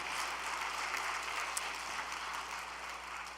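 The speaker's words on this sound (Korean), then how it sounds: "박수 한번 올려드리겠습니다" Steady applause from a crowd at an all-night devotional gathering of a religious congregation, a dense even wash of clapping that holds at a fairly quiet level throughout, with no voices over it.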